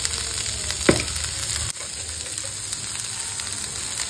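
Roughly chopped tomatoes hit a hot pan and sizzle steadily, with a brief sharp clatter as they go in, the frying hiss continuing loud and close.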